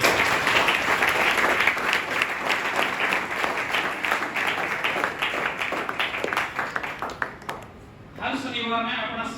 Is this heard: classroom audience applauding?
yes